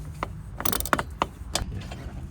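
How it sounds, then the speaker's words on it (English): A large ratchet loosens very tight bolts on a Polaris RZR 200 during a battery swap, giving a few sharp, close clicks and clunks spread irregularly over a couple of seconds, with no talk. "We'll use this bigger ratchet to get them started."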